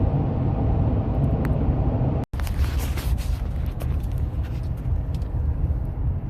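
A Chevy Silverado pickup truck rolling along a back road, with a steady, loud low rumble of engine and road noise that drops out for an instant partway through, then carries on continuously.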